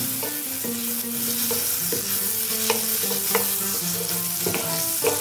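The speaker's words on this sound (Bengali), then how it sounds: "বাটারটা গলিয়ে নেব এইভাবে।" Butter melting and sizzling in a frying pan for a methi butter chicken roast, a steady crackling sizzle with a few brief clinks and stirring scrapes, close and fairly loud, no voices.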